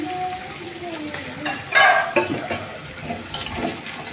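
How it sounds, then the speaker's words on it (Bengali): Finely chopped onions frying in a pan, a soft continuous sizzle with occasional clinks and scrapes of a utensil stirring, close by and moderately loud, while a person talks over it now and then. "পেঁয়াজটা একটু ভাজা করবে"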